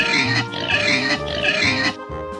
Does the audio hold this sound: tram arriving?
no